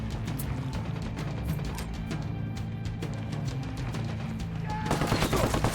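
Dense, continuous gunfire from the video game Ghost Recon, rapid shots and bursts layered over a steady low rumble of battle, getting louder and busier near the end, with no voices.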